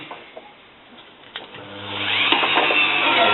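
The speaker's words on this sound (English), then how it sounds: "that's going to get noisy now when I put the drill on" An electric drill spinning a polishing pad across scratched car windscreen glass starts up partway through, rising into a steady, loud whirring drone after a quieter stretch of faint handling knocks.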